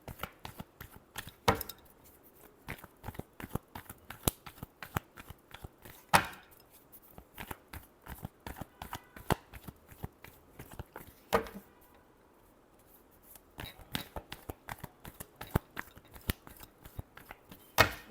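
Tarot cards being shuffled by hand, a brisk run of sharp riffling snaps and taps at close range, coming in uneven bursts with brief pauses and no voices.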